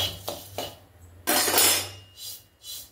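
Roasted spices tipped from a pan into another dish, a few light metallic taps and clinks followed by a short rushing pour and scrape, close and brief.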